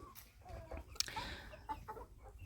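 Faverolles chicks and young roosters cluck and peep around a feeder, a busy run of short, overlapping calls at close range.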